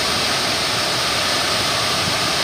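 A waterfall pours in a steady, broad hiss of rushing water, loud and unbroken, with no voices over it.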